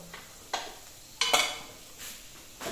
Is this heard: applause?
no